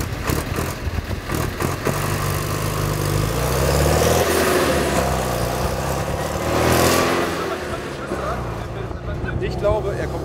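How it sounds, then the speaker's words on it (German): A Unimog truck engine in the Sahara rises in a loud, sustained revving swell, with people talking over the steady drone. "Gib mal Gas."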